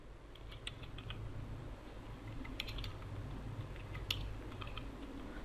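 Keys clicking on a computer keyboard as PHP code is typed, soft irregular taps in small clusters over a faint background hiss, close and fairly quiet.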